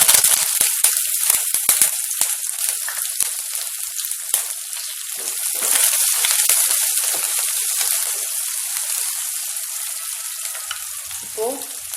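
Onion, crushed garlic and curry leaves fry in hot oil over a low flame for Tamil kothavarangai poriyal, giving a continuous bright sizzle with scattered sharp crackles and pops throughout, no voices.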